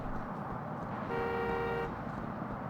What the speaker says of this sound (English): people in Okinawa are just crazy. Where they just honk at you for nothing